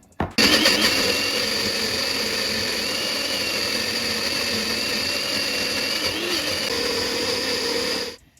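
An electric blender grinds green chili and cilantro chutney with lemon juice, a loud continuous whirring motor starting abruptly and running steadily for several seconds before cutting off.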